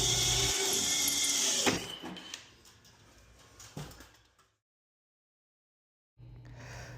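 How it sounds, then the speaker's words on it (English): A power drill bores into an existing electrical box while a fire alarm is being installed, grinding loudly at first, then tapering through intermittent bursts before going silent and restarting. "Whenever you're drilling into an existing box, make sure you protect any wires by moving them away."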